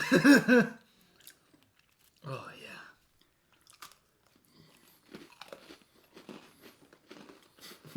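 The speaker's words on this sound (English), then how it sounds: "There's just gonna be spaces of chewing." Oreo cookies are eaten close up, with bursts of crunchy chewing and biting spaced by quiet gaps. A brief exclamation is spoken partway through.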